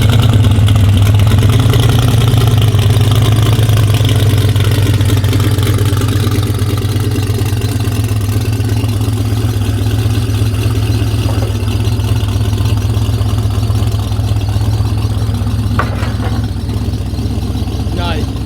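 A twin-turbo F-body car roars on a dyno, its engine revving loud and near in a sustained heavy drone, with voices faintly underneath.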